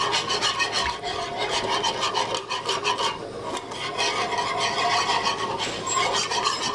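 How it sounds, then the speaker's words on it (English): Heavy cream is whisked in a pan while making chicken fettuccine Alfredo, a steady, close scraping and rasping of the whisk against the pan that continues without pause and without speech. "And you're gonna whisk it in there."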